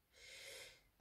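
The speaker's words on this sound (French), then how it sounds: "Pardon, je renifle" A person with an oncoming head cold gives a single short, faint sniffle through the nose, close and breathy, with no talking.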